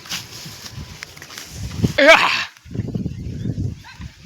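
Small dogs in a millet field on a farm give a short, sharp bark-like yelp midway, surrounded by rustling footsteps and a person talking close by.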